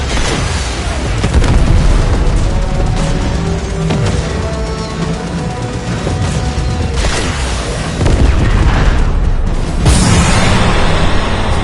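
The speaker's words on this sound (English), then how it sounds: "Fire torpedoes." Heavy torpedo salvos launched from a Railjack starship in the game Warframe, a loud, continuous barrage of booming blasts and explosive bursts layered over a dense space-combat soundscape, with a sharper surge of blasts near the end.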